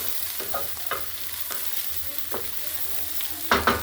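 Chicken and onions brown in olive oil with a steady close sizzle, broken by a few scraping spatula stirs and a louder clatter near the end.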